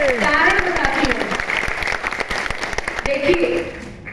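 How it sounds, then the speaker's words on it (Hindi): An indoor audience claps loudly for themselves at a talk, a dense burst of applause lasting several seconds while a voice speaks over it at the start and end. "सबसे पहले चाहूंगी आप सभी अपने लिए जोरदार तालियां बजा दीजिए।"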